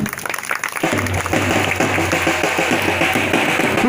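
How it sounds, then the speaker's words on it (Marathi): Crowd applause at a ribbon-cutting to inaugurate a digital village school, a loud sustained clapping from many hands that starts abruptly and continues over music. "टाळ्या होते"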